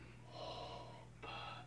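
A voice imitates Darth Vader-style snoring: two long, raspy, breathy rattles, a drawn-out inhale then a shorter exhale, close and fairly quiet over a steady low hum.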